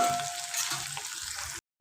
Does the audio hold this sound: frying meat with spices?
yes